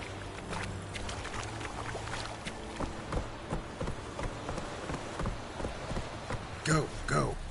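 Hooves of Roach, the horse in The Witcher video game, clip-clop in a steady galloping rhythm, with rattling gear and a couple of louder bursts near the end; a voice speaks over the hoofbeats.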